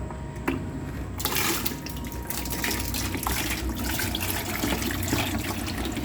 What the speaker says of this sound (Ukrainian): Ого, повна, повна води. Ця штука. Зараз буду зливати.